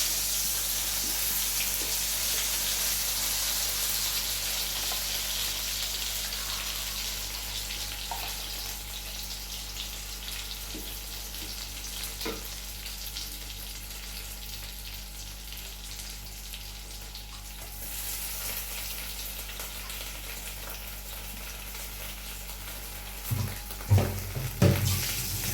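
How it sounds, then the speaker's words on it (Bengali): Ground chana dal paste for a dal puri filling fries in oil with a steady, fairly loud sizzling hiss that runs unbroken, ending in a few brief knocks. "সেই ইয়েটা দিয়ে দিচ্ছি তেলে দিয়ে এটা হচ্ছে ডাল পুরির জন্য পুর করে দিচ্ছি"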